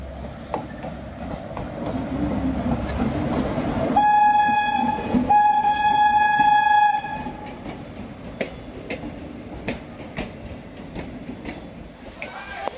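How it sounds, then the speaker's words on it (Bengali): A train pulls out of Barharwa station in Jharkhand, its loud horn blaring in two long blasts over the rumble and clatter of the moving carriages, with no voices in between. "ট্রেন আমাদের ছেড়ে দিল"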